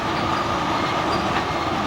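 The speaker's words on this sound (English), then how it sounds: "Notice how fast the train drops after it reaches the summit of the hill." A train rolls downgrade on the steep Slide track over the Allegheny Mountains, giving a loud, continuous rumble and rail noise with faint wheel squeal and no talk.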